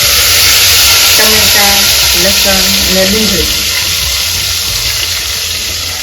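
Cumin, asafoetida and dried red chilies hit hot oil for a chole tempering, giving a loud, steady, close sizzle that fills the whole stretch while a voice speaks briefly beneath it.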